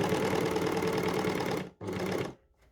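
Overlocker serger stitching T-shirt fabric, a loud close steady mechanical whirr that cuts off briefly, runs again in a short burst, then stops.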